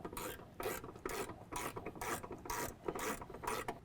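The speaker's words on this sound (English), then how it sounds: "Just get that bolt hand started, and then you can go ahead and tighten it down." A ratchet tightens a 13mm bolt while an S&B cold air intake is installed on a 2017 Ford F-150 EcoBoost, giving a steady series of about eight close, raspy clicking strokes with no talking.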